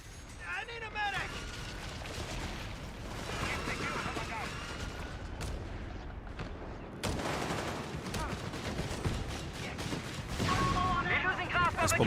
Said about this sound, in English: Nice bombardment there from the Scot.